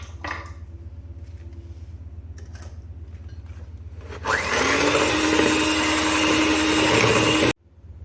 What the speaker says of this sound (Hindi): फिर हम इसको इतना बीट करेंगे कि चीनी अच्छी तरह एग्स के अंदर मिक्स हो जाए